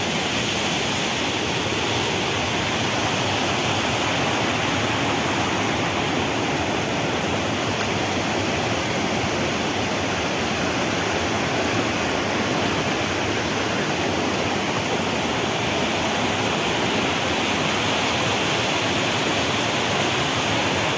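A large volume of flowing water rushes without pause, a loud, dense, even roar like a waterfall or torrent that fills the whole scene with no voices.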